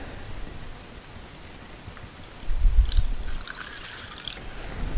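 Liquid trickles and glugs softly into a 1984 Honda 500 Interceptor motorcycle, a faint, close pouring gurgle that swells briefly midway before settling back to a quiet dribble.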